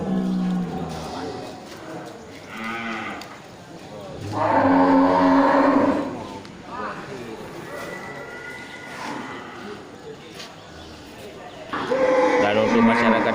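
Cattle, including a black-coated Aceh bull, at a quiet livestock market before Eid, with a few loud moos rising over steady narration and background crowd noise.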